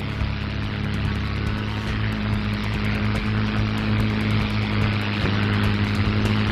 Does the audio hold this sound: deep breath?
no